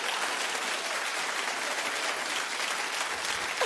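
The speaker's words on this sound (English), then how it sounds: "let's just give her a clap, because, poor Jennifer." A television talk show studio audience applauds, a thick, continuous wash of clapping that stays loud and even from start to finish with no voices over it.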